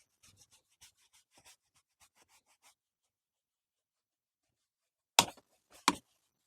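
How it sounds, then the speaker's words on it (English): A brush scrubs the creases of a leather car seat during detailing. A run of soft, quick rubbing strokes is followed by a pause, then two loud, harsh close scrubbing bursts. "Just want to scrub. Make sure you're getting those creases."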